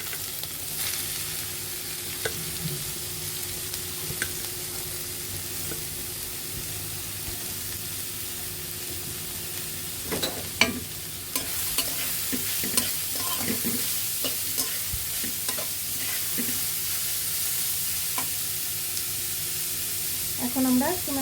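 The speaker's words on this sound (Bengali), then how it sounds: "আমার তেলটা গরম হয়ে গিয়েছে এখন আমরা রসুন এবং আদা কুচিটা দিয়ে দেব পেঁয়াজ কুচি সব একে একে দিয়ে দেব এখানে" Chopped garlic, ginger and onion frying in hot oil for chicken momo filling, with a continuous soft sizzle and intermittent spoon stirring and scraping against the pan, close by with no talk.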